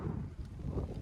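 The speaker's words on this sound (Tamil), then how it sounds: "கிளைமேட் நல்லா இருக்கு, நிறைய காற்று." Strong wind blows across a third-floor rooftop, a low rumbling gusty buffeting on the microphone that swells and dips.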